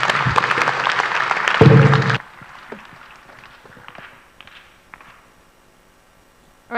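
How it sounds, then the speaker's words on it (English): An audience at a venture capital pitch finale claps in a short burst of dense applause that stops abruptly after about two seconds, followed by quiet room noise with a few faint scattered claps. "A round of applause for them."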